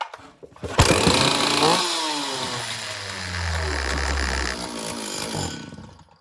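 A Stihl 044 chainsaw starting in cold weather: after a pull the engine catches with a loud burst, then sputters and revs unevenly for several seconds before cutting off abruptly.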